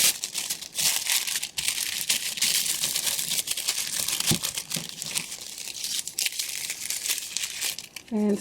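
A bottle of infused extra-strength hair growth oil being wrapped for an Etsy order: near, continuous crinkling and rustling of wrapping material with brief tearing sounds, steady throughout.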